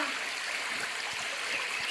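Steady rushing stream water at Napittachhara waterfall in Mirsharai, flowing over large boulders with low water, a continuous close broadband wash with no talk.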